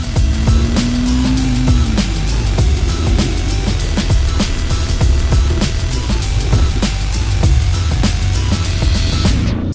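KTM Duke 250 motorcycle doing a rolling stoppie, its engine droning loud and steady throughout with a brief falling whine early on, no voices.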